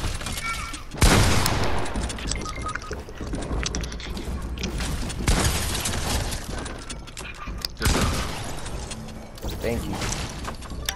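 Fortnite video game gunfire plays in loud, sharp bursts of repeated shots, several volleys a few seconds apart, over a busy game soundscape with a player talking.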